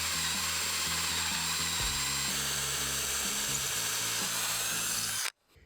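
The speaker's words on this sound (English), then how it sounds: "drilling the hole straight through the template into the leg" A power drill bores through a template into a wooden furniture leg with a steady high whine and grinding bite. It is close and moderately loud, with slight pitch drops under load, and cuts off abruptly at the end.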